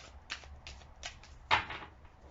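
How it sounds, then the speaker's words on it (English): Tarot cards are shuffled by hand in a quiet room, giving a series of short, soft riffling and slapping bursts roughly every half second, close and alone with no talk. "Two more shuffles."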